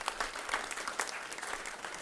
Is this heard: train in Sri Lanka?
no